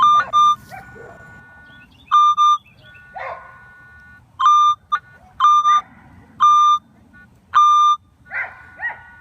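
Repeated steady electronic beep tones from a Minelab CTX 3030 or XP Deus metal detector sweeping ground around an early 1900s mill house, several short clear signals in irregular bursts with faint rustling between.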